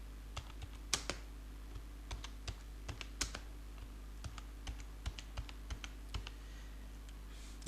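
Typing a search on a computer keyboard: a couple dozen irregular key taps, close and soft, over a steady low hum.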